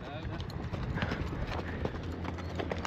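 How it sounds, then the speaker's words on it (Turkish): Hooves of large, well-fed horses clip-clopping on a road in Patagonia, ridden by police, a steady rhythm of close hoof strikes running under ongoing talk. "Lan ne kadar büyük atlar."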